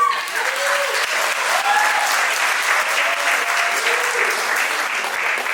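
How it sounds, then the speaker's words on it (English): A gala award-show audience claps steadily and cheers for a team on stage, with dense, loud applause and rising whoops throughout. "I would love for you all just to clap and just yell and empower them"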